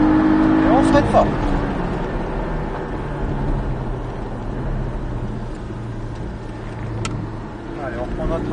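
Porsche Cayman 718S Sprint race car on the Mettet circuit under hard braking, a loud continuous in-car engine and road roar with a falling tone, a few squeals and voices over it.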